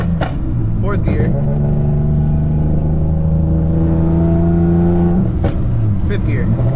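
Nissan Maxima swapped to a 6-speed manual, its engine held at high revs with a loud, steady tone and short shifts at the start and end, while someone talks over it.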